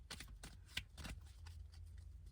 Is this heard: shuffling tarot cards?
yes